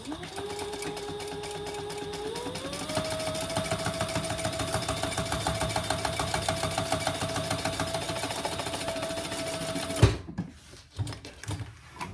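A sewing machine top-stitches the side piece of a fabric wallet with a steady, continuous mechanical whir and rapid needle ticking that holds for about ten seconds, then stops abruptly, leaving faint handling noises.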